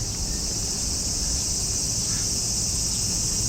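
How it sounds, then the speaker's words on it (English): Cicadas singing in the trees along the Sumida River in Tokyo, a loud, continuous high buzzing drone that holds steady throughout, with no talking. "you guys can hear the cicadas in the trees"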